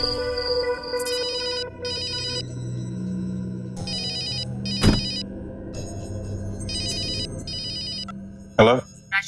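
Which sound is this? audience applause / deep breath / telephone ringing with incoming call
telephone ringing with incoming call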